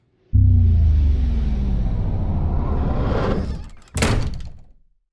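Police break down a door: a heavy thud followed by a long grinding, splintering rumble, then a second sharp crash as the door gives way, loud and near.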